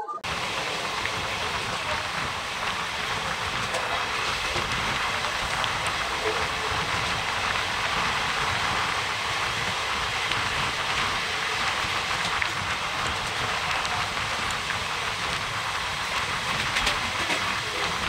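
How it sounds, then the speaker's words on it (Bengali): The Nabadwip–Balurghat Express, train 13431, stands at platform 1 of Salar station; a loud, steady rumble and hiss of the train continues for the whole stretch, constant and close, with no clear voices. "আর এই প্ল্যাটফর্মে এসে দাঁড়িয়েছে ট্রেন নাম্বার"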